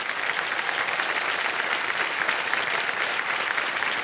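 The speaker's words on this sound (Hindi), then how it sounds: "एक बार जोरदार तालियां बज जाएं।" Studio audience on the KBC quiz show breaking into sustained, loud applause, a dense continuous patter of many hands clapping together.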